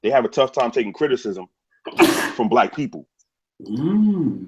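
A loud, close sneeze with a rising, roaring vocal burst comes right after a person talking in an interview.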